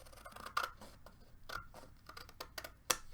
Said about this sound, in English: So I'm going to cut this one all the way in